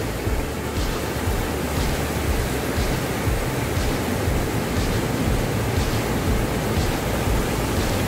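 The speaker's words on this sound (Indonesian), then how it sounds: "bisa dilihat gelombangnya besar banget ya." Large ocean waves at Legon Pari beach, Sawarna: a loud, continuous rumbling surf roar with faint, regular swells of breaking water and no talking.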